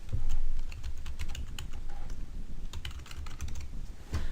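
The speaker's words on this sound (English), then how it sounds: "On the left, you want to type in your Juniata College username and password." Fingers tap out a username and password on a computer keyboard, a quick irregular patter of close, crisp key clicks with short pauses between bursts.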